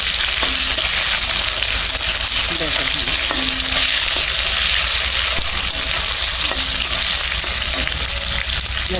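Whole spices such as cinnamon, black pepper and cardamom sizzle and crackle loudly in hot oil in a steady, dense frying hiss, with faint stirring knocks and no voices, as muri ghonto with flattened rice is cooked.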